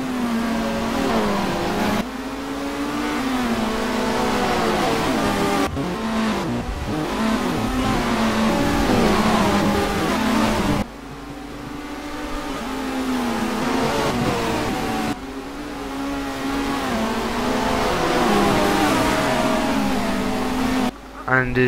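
BTCC touring race cars lap Knockhill circuit in Scotland, engines howling loud and close throughout, revs climbing and dropping sharply with gear changes every few seconds, while a voice talks faintly underneath.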